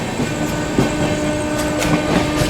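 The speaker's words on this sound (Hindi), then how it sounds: "गीता जयंती एक्सप्रेस खड़ी हुई है दोस्तों आप लोगों की कुरुक्षेत्र खजुराहो" The Geeta Jayanti Express, running from Khajuraho to Kurukshetra, rumbles steadily with a loud, continuous rolling roar and faint rhythmic clicks of wheels on rail joints, heard close with no voices.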